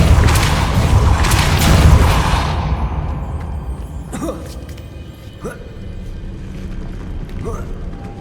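A Depulso force spell cast in the Hogwarts Legacy video game lands as a loud, broad whooshing blast that fades over about three seconds, followed by a few sharp, lighter magical impacts.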